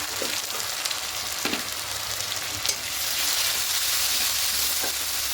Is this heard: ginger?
yes